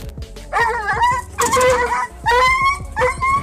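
A dog yelps and whimpers in repeated high, sharp cries after touching an electric fence, loud and close, in several bursts over a steady low rumble.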